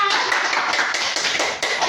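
A group claps together at a school positive-discipline sharing session, producing a steady, dense patter of hand claps that stays fairly loud and even throughout, without a voice over it.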